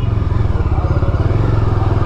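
A motorcycle rides through Bhuj, its engine thrumming loud and close in a steady rapid pulse with wind noise throughout.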